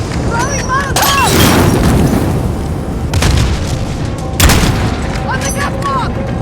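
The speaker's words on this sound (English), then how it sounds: "Throwing Molotov!" A thrown Molotov cocktail bursts in Modern Warfare, with heavy booming impacts and crackling blasts amid combat noise. Soldiers shout callouts over the din.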